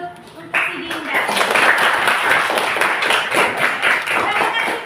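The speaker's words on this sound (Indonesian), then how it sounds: "tepuk tangan dulu untuk si Dinda" A class of schoolchildren claps for a classmate, with a burst of close, lively clapping that starts suddenly and carries on under chatter and voices.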